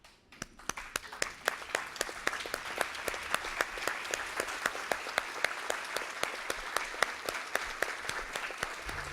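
A standing audience at a solemn council ceremony applauds an honored citizen of Campinas, steady dense clapping that builds in the first second and holds evenly throughout with a few sharper claps standing out, no talk over it.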